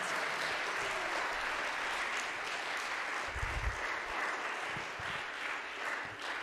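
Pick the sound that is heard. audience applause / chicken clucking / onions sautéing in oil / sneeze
audience applause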